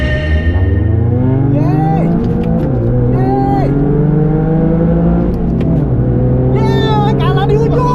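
A Toyota GR car accelerates on the Mandalika circuit, its engine note climbing steadily with gear-change dips, loud and close throughout from inside the cabin.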